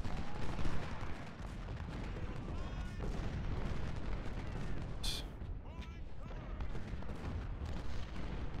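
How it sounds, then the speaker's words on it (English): A line of artillery firing into an enemy flank in Ultimate General: Civil War, booming cannon reports and musket crackle under a continuous rumbling battle din, with someone talking over it. "We've got a nice little line of artillery here that's all going to fire into their flank."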